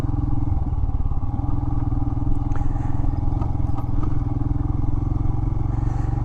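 A 2021 Royal Enfield Himalayan adventure motorcycle rides off pavement, its single-cylinder engine thumping loudly and steadily throughout, with occasional clatters and scrapes from the rough ground.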